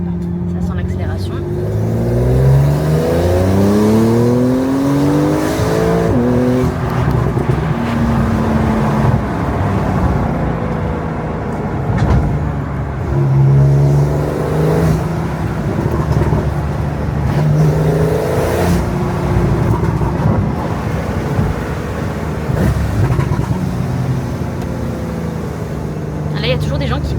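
Supercars gathered on Mauritius rev and accelerate, their engine notes rising and falling in repeated sweeps, loud and close, while people talk over them throughout.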